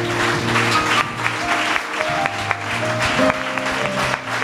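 A church congregation applauds in praise during a prayer gathering, producing steady, dense clapping under sustained music and voices that carry on throughout.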